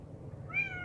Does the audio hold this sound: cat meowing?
yes